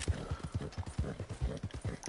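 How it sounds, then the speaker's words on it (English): Horse hooves clip-clop steadily in Red Dead Online, a quick, even rhythm of muffled thuds, fairly close but soft. "I don't understand what the point of these horses are. These random horses."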